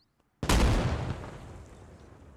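A single small explosion in the war game Arma Reforger booms suddenly after silence, loud and close, its rumbling tail fading slowly over two seconds.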